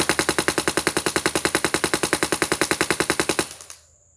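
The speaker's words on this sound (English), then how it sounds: "So we'll just start by shooting up at that tree up there." A Bob Long VIS paintball marker fed by a Virtue Spire 4 loader fires GI 5-star paintballs outdoors in a fast, even burst of about twelve loud pops per second for several seconds, then stops abruptly.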